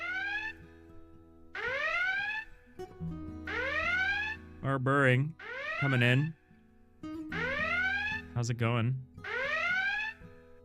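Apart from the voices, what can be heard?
alarms going off during a stream raid alert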